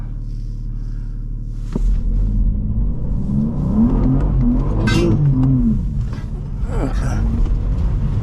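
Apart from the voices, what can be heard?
tuned 2022 BMW M4 Competition attempting a burnout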